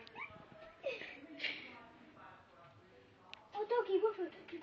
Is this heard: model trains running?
no